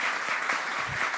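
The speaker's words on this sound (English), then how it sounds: "let us give them a warm round of applause as a welcome" A crowd claps together in sustained applause at a parish pastoral plan meeting, a dense, even patter from many hands filling the room.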